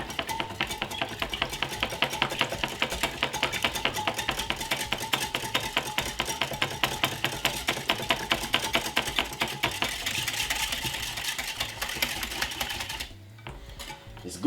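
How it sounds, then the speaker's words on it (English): An egg is whisked with salt and pepper in a bowl, a fast, even run of close clicking and tapping strokes that stops abruptly near the end. "Pinch of pepper, and also pinch of salt, and give it a whisk."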